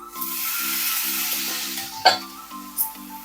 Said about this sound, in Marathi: आता याच्यामध्ये आपण गाबोळी घालून घेऊया